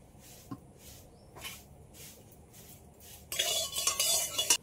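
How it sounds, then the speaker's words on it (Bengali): Light clinks and soft scraping from a kitchen give way to a louder, rushing splash and hiss as mustard oil is poured into a wok (kadai), close up and without talking. "কড়াইতে দিয়ে দিচ্ছি সর্ষের তেল।"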